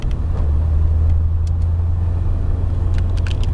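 A 647-horsepower Chevrolet Corvette ZR1 engine at full throttle on a race circuit, a loud steady low rumble heard from inside the car with a few faint higher clicks.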